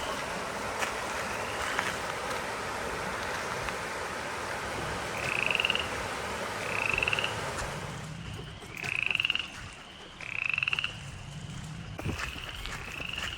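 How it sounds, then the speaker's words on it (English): Frogs croaking beside a dirt gravel hiking trail on the Glenn Springs Passage of the Palmetto Trail, a few loud repeated calls spaced a second or two apart over a constant outdoor hiss, with no talking. "Listen to the frogs."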